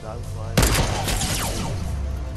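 A sudden loud gunshot in the video game Fortnite, followed by echoing impacts and game noise fading out over a couple of seconds, with voices talking underneath.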